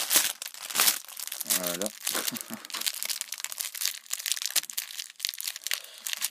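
Plastic wrapping on a One Piece collection poster package crinkles and tears as it is opened, a close, continuous crackling rustle, with someone talking briefly over it.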